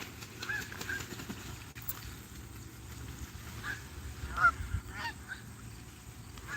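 Geese at a waterside spot honk intermittently, a few calls rising over steady background noise at moderate distance, with no talking.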